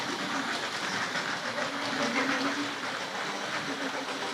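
Tri-ang Hornby and Hornby Dublo model trains running on a layout track give a steady, continuous rolling rumble with light rhythmic clatter, close and even in level throughout, with no talking.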